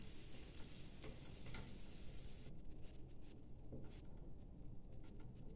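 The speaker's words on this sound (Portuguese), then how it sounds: "Vou deixar derreter agora bem essa margarina aqui." Margarine melts in a hot pan with a steady, close sizzle and fine crackling patter that continues without pause throughout, with no talking.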